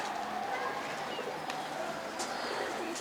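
A pigeon or dove coos steadily at close range, its soft calls running through a constant hiss of background noise, with no one speaking.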